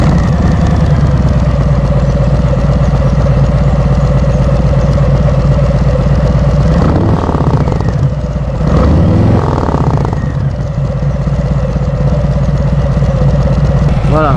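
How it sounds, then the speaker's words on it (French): A 2018 Harley-Davidson Sport Glide motorcycle fitted with an aftermarket baffle idles close by in a deep, steady throb, its engine note wavering briefly midway before settling back into an even rumble. "Alors je vais la mettre en route."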